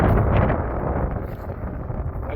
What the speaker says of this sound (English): Now it is crazy windy out here today